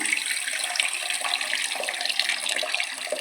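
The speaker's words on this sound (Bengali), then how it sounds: "দিয়ে দেবো জল এতে পরিমাণ মতো নেড়ে জল দিয়ে দেবো" Water is poured into a cooking pan while making a kofta curry, a continuous close splashing rush that stays steady and fairly loud for the whole stretch with no voices.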